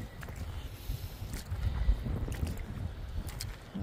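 Gusty wind buffets the microphone on a river gravel bar with a low, rumbling roar that rises and falls, with occasional light rustles.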